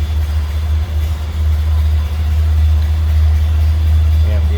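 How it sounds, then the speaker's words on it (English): A 1929 Ford Model A Roadster engine runs with a steady, loud low rumble that holds throughout, close by, with no clear pause. "We're just going to go ahead and hit the starter."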